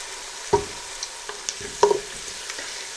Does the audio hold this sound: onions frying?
yes